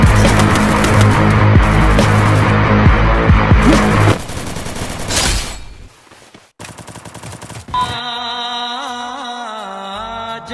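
Bursts of automatic gunfire from the mobile battle game Free Fire, loud rapid volleys for several seconds, then a brief lull before scattered shots and electronic game sounds return.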